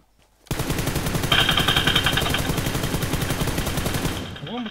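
Rapid automatic gunfire in the mobile battle-royale shooter PUBG Lite, a loud, steady burst of closely spaced shots that starts abruptly after a short silence and runs for about four seconds.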